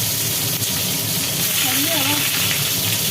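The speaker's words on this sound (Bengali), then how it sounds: "তেল গরম হয়ে গেল তেলের ওপরে ছেড়ে দেওয়া হচ্ছে আস্তে আস্তে পটল" Peeled pointed gourd pieces dropped into hot oil fry with a loud, steady, hissing sizzle, close up, while a voice speaks briefly over it midway.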